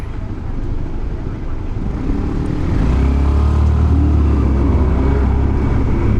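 A Mercedes-AMG engine on a Tokyo street builds into a loud, deep, sustained roar that swells after a few seconds and holds steady close by, with no talk over it.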